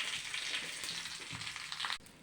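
Small onions and curry leaves, added after mustard seeds, fry in hot oil in a pan as tempering for a green gram and beetroot curry. A steady, close sizzle crackles throughout, with no talking.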